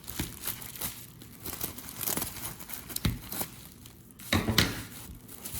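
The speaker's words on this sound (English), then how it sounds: "Get some more bubble wrap here. I'll cut some off." Bubble wrap being cut and handled while cards are prepped for grading: soft crinkling and rustling with a few small pops and snips, close and fairly quiet.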